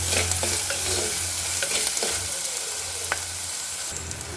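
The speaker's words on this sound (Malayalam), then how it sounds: "ഇനി ഇത് നമുക്ക് നന്നായിട്ട് വഴറ്റിയെടുക്കാം." Onion, ginger, green chili and garlic sauté in oil for a fish curry, a dense steady sizzle with occasional spatula taps and stirs, close and even in level.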